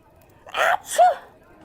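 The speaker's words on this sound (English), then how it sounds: "But I covered my sneeze" A single muffled sneeze up close, a short sharp burst followed by a brief voiced gasp, with quiet surroundings before and after.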